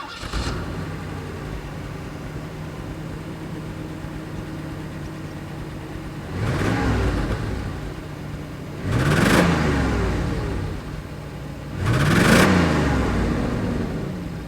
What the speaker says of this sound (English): let's start up the SL and see how good she sounds.